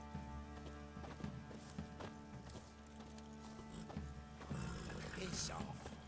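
Roach the horse from The Witcher 3 trots with rhythmic clip-clopping hooves beneath game music and voices, the motion growing louder and rougher toward the end.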